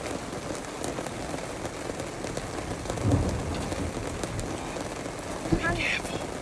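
Steady heavy rain drums on a van roof during a thunderstorm, with a low thunder rumble rising briefly near the middle and a muffled voice heard faintly near the end.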